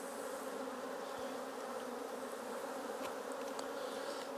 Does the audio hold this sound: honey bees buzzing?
yes